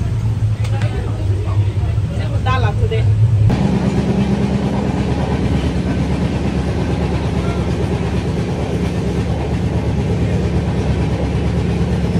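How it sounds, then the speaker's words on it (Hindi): Interior of a moving sleeper train carrying a college group, with a loud continuous rumble and rattle of the carriage and wheels on the track, and people talking and chattering close by. "अभी हम तेरह में ट्रेन में चढ़ गए अभी हम जा रहे हैं"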